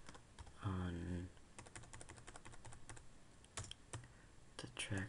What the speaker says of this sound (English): then you can type in what you want